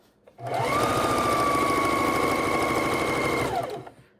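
A sewing machine runs in one steady continuous burst, stitching binding onto a quilt, its motor whirring at an even pitch for about three seconds before stopping.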